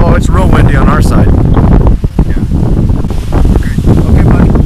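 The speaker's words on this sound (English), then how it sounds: "Oh, it's real windy on our side." Strong wind blasting over open water, loud and constant roaring buffets against the microphone, with a voice talking through it.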